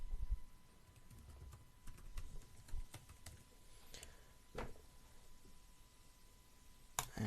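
Someone types an email address on a computer keyboard, producing soft, irregular key clicks close to the microphone in a quiet room with a faint steady tone in the background.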